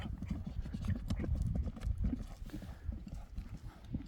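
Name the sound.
horse hooves clip-clopping, stallion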